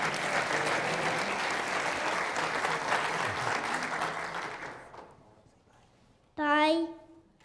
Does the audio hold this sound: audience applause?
yes